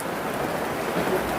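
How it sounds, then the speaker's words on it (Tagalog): Steady rain falls outdoors, a dense, even patter and hiss that stays close and fairly soft, with no voices. "It's raining."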